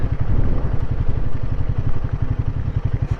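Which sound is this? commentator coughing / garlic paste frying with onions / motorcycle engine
motorcycle engine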